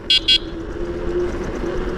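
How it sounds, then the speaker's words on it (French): Two short, bright beeps from the small electric horn of a Kugoo Kirin M4 electric scooter in quick succession, followed by a low motor whine and street noise. "on entend à 2 km le petit klaxon qui fait son petit effet tel un scooter"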